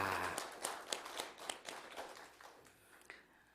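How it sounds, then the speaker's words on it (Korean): A church congregation at an afternoon worship service claps for the musicians and singers, a faint, distant, uneven patter of hands that thins out and fades over a few seconds. "우리 박수 한번 치겠습니다"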